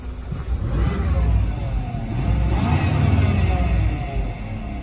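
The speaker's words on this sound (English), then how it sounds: "You can hear the fan is rubbing." A running 1999 Toyota 4Runner engine idles and swells steadily close by, its cooling fan rubbing inside the engine bay, giving a continuous whirring, scraping drone over the motor's low rumble.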